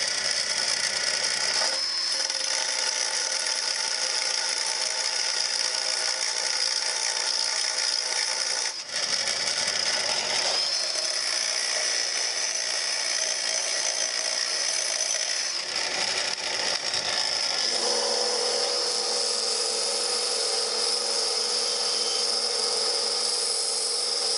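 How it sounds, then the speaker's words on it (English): A grinder runs while rounding off the end of a snowblower shear bolt, a continuous high whine with a few brief dips and changes in pitch, close and without talk. "So get the grinder going, tighten the chuck"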